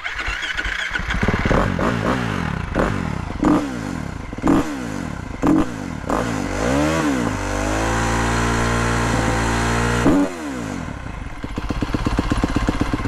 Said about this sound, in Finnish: Vedetään mopo lämpenee tosta.